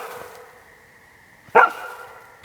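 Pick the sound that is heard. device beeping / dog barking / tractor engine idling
dog barking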